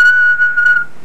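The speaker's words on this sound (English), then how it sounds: "Train does have a whistle," A train whistle gives a single loud, steady high-pitched blast lasting under a second, close and alone before it cuts off.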